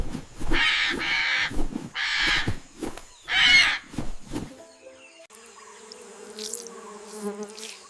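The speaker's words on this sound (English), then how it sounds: "Listen, a bird." Harsh cawing bird calls outdoors in Hawaii, several loud raspy caws in a row close by, followed by softer chirps and buzzing over a quieter background.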